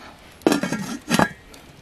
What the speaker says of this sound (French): je vais venir couvrir ma soupe avec un couvercle de la casserole